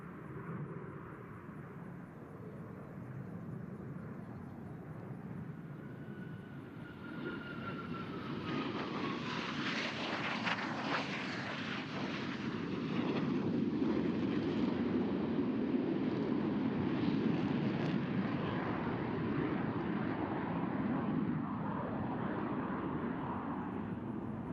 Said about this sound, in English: roll their aircraft to 90 degrees angle of bank and push forward on the stick as they perform the opposing knife edge pass